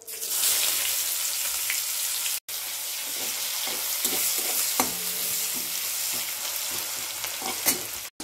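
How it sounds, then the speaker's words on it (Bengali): Chopped onions and panch phoron sizzle in oil left from frying rohu fish for a kalia, a dense, steady crackling hiss with a brief break where the audio drops out, plus occasional stirring clinks, close and loud. "এবার ওই একই মাছ ভাজা তেলের মধ্যে পাঁচ ফোড়ন ফোড়নে দিলাম। পেঁয়াজ কুচোগুলো দিয়ে দিলাম।"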